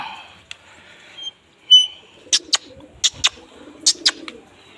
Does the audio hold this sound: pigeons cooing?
yes